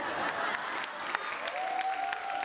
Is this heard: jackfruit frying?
no